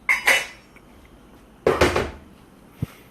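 Metal pot and lid handled while cooking: two sharp clattering clanks of metal on metal a second apart, then a small knock, close and loud.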